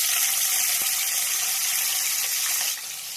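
Onions sizzle in hot oil for meal maker biryani cooked with biryani masala, shahjeera and cloves, a steady bright hiss that holds evenly and eases slightly near the end, with no talk.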